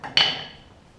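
A single sharp metallic clang rings out as a hammer strikes a pry bar to loosen a bolt on a Snapper rear-engine riding mower, close by, with a brief ringing decay.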